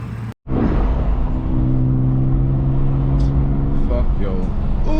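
A BMW M2 GT3 driving on New York streets at night, its engine a steady low drone heard from inside the cabin, with a voice talking over it and a brief dropout near the start.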